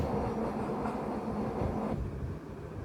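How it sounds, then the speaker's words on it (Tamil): A train rumbles along in the Indian Bike Driving 3D video game, a steady rolling rail roar heard alone that eases off slightly near the end. "இப்போ அங்கே ட்ரெயின் நிற்குது, வெயிட் பண்ணுங்க."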